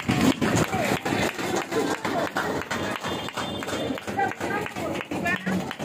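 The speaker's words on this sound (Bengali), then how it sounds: "একটু হাততালি জোরে।" A group clapping at a Teachers' Day celebration, with steady rapid hand claps from a crowd, fairly loud and close, while voices talk over it.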